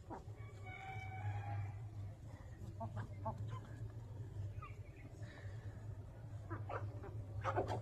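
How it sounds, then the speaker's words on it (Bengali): Chickens of several kinds, including local and poultry breeds, clucking and calling in a yard. The sounds are faint and intermittent over a low steady hum, with a distant rooster-like call. "দেখো কত ধরনের মুরগি,"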